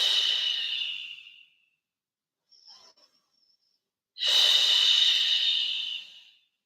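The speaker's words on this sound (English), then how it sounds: "Take 2 belly breaths in opposition." Two long, close belly breaths during a relaxed yin yoga twist, a breathy hiss that fades out, a brief faint rustle in the pause, then a second full breath that fades.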